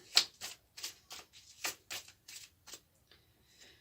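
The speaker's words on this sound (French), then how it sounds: "On va recouvrir les 5 cartes." Playing cards are covered and handled during a love card reading, giving a close series of about ten crisp papery slaps and swishes in an uneven rhythm, loud and near, fading slightly at the end with no talking.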